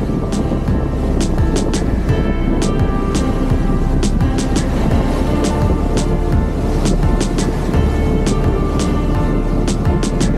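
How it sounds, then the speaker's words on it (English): Powerful ocean waves pound the rocks at Weeping Rock in Mauritius, a dense, continuous roar of surf with sharp splashing cracks scattered throughout. "an endless succession of powerful booms coming from the relentless crashing of the waves against the rocks"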